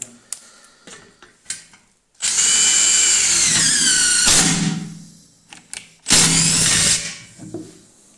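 Makita DTD172 impact driver running in a screw mode for self-drilling screws in thin sheet metal, two loud bursts of rapid hammering with a rising whine, the first longer, the second shorter, separated by quiet clicks and handling noise.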